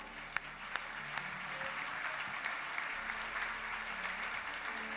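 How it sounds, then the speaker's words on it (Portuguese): A church congregation applauds during a Brazilian evangelical service, a steady wash of faint, distant clapping with a few sharper nearby claps standing out. "Vamos aplaudir o Senhor."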